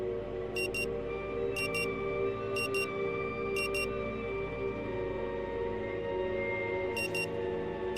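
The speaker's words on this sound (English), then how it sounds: "The frenetic alarm sound nudges you back to the present." A frenetic electronic alarm in the video game Rue Valley: short paired bursts of high beeping repeat at roughly one-second intervals over a steady droning musical bed.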